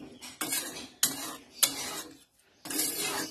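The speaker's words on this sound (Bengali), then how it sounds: "মাংসটা সিদ্ধ করার জন্য দিয়ে একটু নেড়ে ঢাকা দিয়ে দেবো" Chicken meat stirred in a pot before covering, a few scraping, clattering strokes of a utensil in separate bursts with short pauses between, close-up and without talk.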